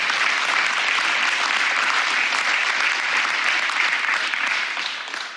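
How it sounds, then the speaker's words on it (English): Crowd at a political gathering in New York's Southern Tier applauding a family, a dense, loud, sustained wash of clapping that holds steady for several seconds before tapering off at the end. "So another round of applause for them."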